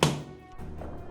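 A steel saber cuts into the ribs of a test dummy with one sharp thunk at the start, and a faint ringing tail fades after it.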